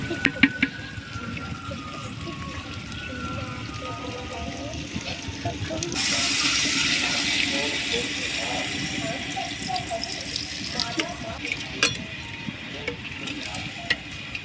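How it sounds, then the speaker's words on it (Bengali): Water is poured into a clay pot of chicken curry with potatoes, a sudden louder splashing surge over the ongoing sizzle of the pot, with a voice talking throughout. "এবারে জল দিয়ে দেবো"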